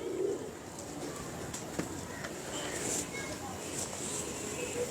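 A prized show pigeon coos softly in a loft in Model Town, with low repeated coos and a few chirps from other birds close by, while someone speaks over them.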